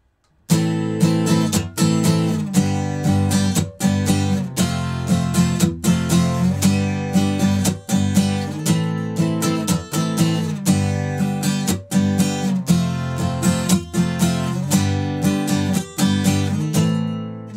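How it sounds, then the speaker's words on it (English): Acoustic guitar strummed in a steady rhythm, with muted percussive ghost-note hits between chords, close and fairly loud, no talking. "strike the strings and it will give me a ghost note sound as well."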